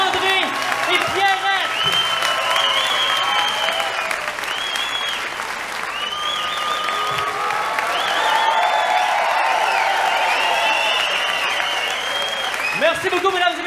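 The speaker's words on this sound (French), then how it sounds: "On applaudit le nouveau couple, André et Pierre." A comedy gala audience breaks into loud, sustained applause mixed with cheering and whoops, a full roomful of clapping that swells near the end, with no talking over it.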